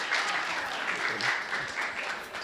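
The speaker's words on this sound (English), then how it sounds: "He's giving him a round of applause." An audience at a university Grad Slam research-talk competition applauds the third place finisher, a full, sustained round of clapping that fills the room at even loudness throughout, with a faint voice underneath.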